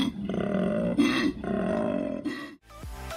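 A male koala bellows in a series of deep, rasping roars, loud and close, with a snoring rhythm of repeated drawn-out pulses broken by brief pauses, and a final short call after a moment of near silence.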